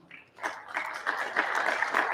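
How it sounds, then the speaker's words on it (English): Scattered audience clapping at a national convention session, starting after a brief quiet moment and building into a moderate, uneven patter of hands heard from across a meeting room. "Next to him, clapping, is Jack Albanus."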